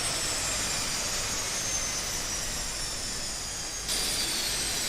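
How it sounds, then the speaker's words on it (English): A steady, loud broadband drone from a DHC-6 Twin Otter's turboprop engines in a flight simulator as fuel is cut to the right engine, with an abrupt shift in the hiss near the end. "So cut the fuel to the right engine."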